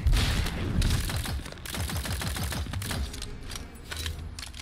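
Rapid bursts of gunfire in the video game Tiny Tina's Wonderlands rattle off in quick succession, with dull thumps underneath, fairly close and continuous throughout.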